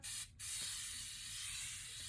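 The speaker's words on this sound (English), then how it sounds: "I do like to spray my makeup if I have powder." Water facial mist sprays from a large can: a close, loud hiss that cuts out for a moment and then resumes as one long steady spray, with no talking.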